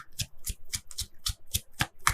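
Tarot cards shuffled by hand in a steady rhythm of eight close, crisp riffling snaps about a quarter second apart, with no voices.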